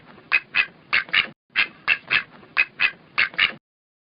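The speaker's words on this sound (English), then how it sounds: "Ducks." Ducks quack in a rapid run of about twelve loud, nasal squawks grouped in twos and threes, close and alone, then stop abruptly, in a children's alphabet program.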